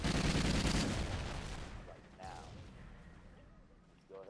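Pistol gunfire in a PS3 multiplayer shooter: a dense burst of loud shots opens, then fades out, with a couple of sharper cracks later under the fading game noise.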